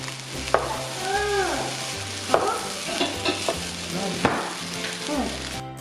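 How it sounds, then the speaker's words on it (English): Fried rice with chicken and pineapple stirred in a pan, a utensil scraping and tossing with sharp clacks over a steady sizzle, some tonal background melody running underneath. "At last, we add the pineapple. And mix them well."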